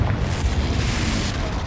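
A fiery Confringo spell explosion in the Hogwarts Legacy video game, heard as a loud, sustained booming rumble with heavy low-end crackle that rolls on without a break.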